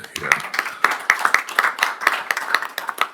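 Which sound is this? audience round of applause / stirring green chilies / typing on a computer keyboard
audience round of applause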